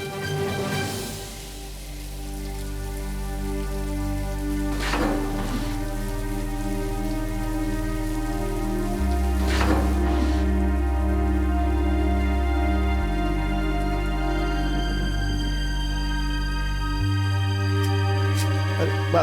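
Steady rain falls throughout on a domestic setting during a rainy day, a continuous close wash of drops with a few sharper splashes, heard alone with no talking over it.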